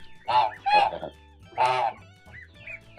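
Loud honks from a Kholmogory gander calling its three-week-old goslings, several calls in a row from close by, with some softer calls and quieter gaps between them.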